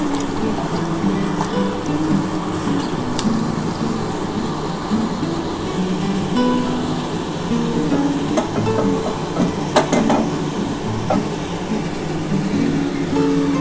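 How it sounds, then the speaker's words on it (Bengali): Fish fat with salt frying in a pan while cooking Malabar spinach, a dense continuous sizzle and crackle heard close and fairly loud, with occasional sharp pops and no talking. "এই যে মাছের তেলটার মধ্যে আমি একটুখানি নুন দিয়ে নিয়েছি এটা একটু ভেজে নিয়েছি"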